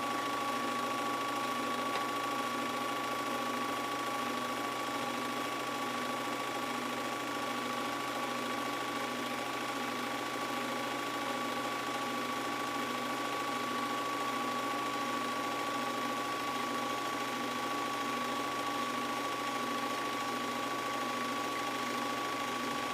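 Sewing machine winding a bobbin, a steady unbroken mechanical whir with a high tonal whine, running close and alone at constant speed the whole time.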